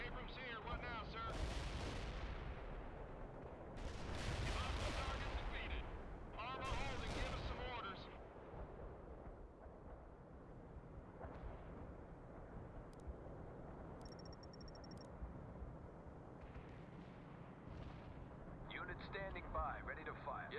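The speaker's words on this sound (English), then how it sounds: "Artillery striking." Artillery shells strike in the World in Conflict video game, several heavy booming explosions in separate bursts followed by rumbling, with radioed unit voices speaking between the blasts.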